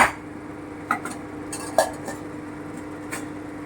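A lid set onto a pot of simmering mutton liver kosha, giving a few light metallic clinks and taps over a steady low hum, close and fairly quiet.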